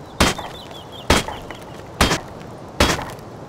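Four sharp, evenly spaced wooden whacks ring out as an axe chops at a wooden barricade in the survival game Rust, each a loud splintering thud with a short decay.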